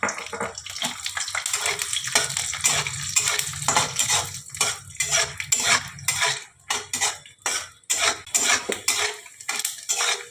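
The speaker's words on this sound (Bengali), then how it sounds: "এই যে আমি একটু সাদা তেল দিয়ে দিলাম, এই যে কাঁচা বাদামটা আমি দিয়ে দিলাম।" Raw peanuts frying in white oil while being stirred, with close, loud repeated scraping and clattering of a metal utensil against the pan in uneven bursts over a light sizzle.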